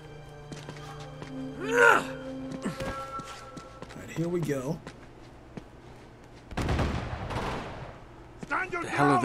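Bursts of gunfire from an Uncharted 2 firefight crackle in short volleys, with one loud, dense barrage midway, while a player groans and talks over the shooting.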